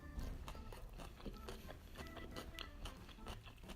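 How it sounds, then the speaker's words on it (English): Crisp, crunchy bites and chewing of a vegan Asian zoodle salad with blanched sugar snap peas, a dense run of close crackling crunches throughout with no talk. "I want you guys to hear how crispy and crunchy this is, which is why it's called crunchy Zoodle salad."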